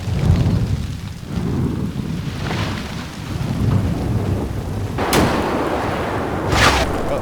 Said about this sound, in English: And there goes my ammo rack and everything.